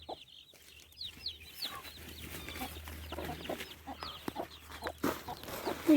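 Several chickens cluck and chatter close by in a steady, overlapping stream of short calls, with occasional louder squawks.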